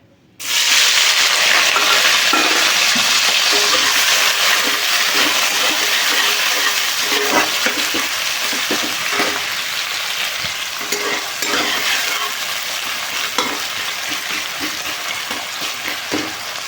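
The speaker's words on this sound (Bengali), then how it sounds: "ডিম ভাজার তেলের মধ্যে দিয়ে দেব পেঁয়াজ কুচি" Chopped onion fries in hot oil left over from frying duck eggs, a loud, continuous close sizzle with occasional scraping from stirring throughout.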